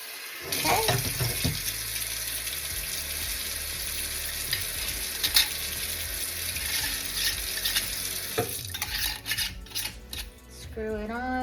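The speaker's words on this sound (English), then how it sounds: "Fill this jar with water." Water runs and splashes into a jar, a steady hissing flow with some clinks and rustles, near and moderately loud.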